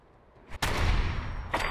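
Rifle fire in Fallout 4: a loud, sharp shot bursts in near the middle and rings into a sustained rumble, with a second crack near the end; no talking.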